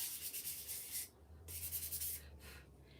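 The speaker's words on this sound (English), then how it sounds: "I want to sand this part a little bit." Sanding a small wooden acorn craft piece by hand, a soft gritty rubbing in short back-and-forth strokes with brief pauses, close and fairly quiet with no talking.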